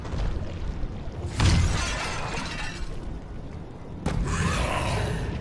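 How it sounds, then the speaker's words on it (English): Glass breaks twice in loud, close crashes, each followed by a lingering noisy wash of debris. "I said break the glass!"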